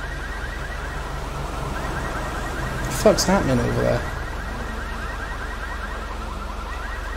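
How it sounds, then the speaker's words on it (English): Car alarms wail continuously in the GTA V video game, a steady repeating tone under a brief burst of someone talking. "I can just hear mad car alarms."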